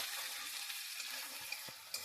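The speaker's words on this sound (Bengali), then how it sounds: "পেঁয়াজটা দিয়ে প্রায় দু থেকে তিন মিনিট ভালো করে ভেজে নিতে হবে একটু ব্রাউন ব্রাউন কালার আসা পর্যন্ত" Onions frying in a pan for a Bengali potato and egg curry, a steady close sizzle with scraping stir strokes through it, no talking.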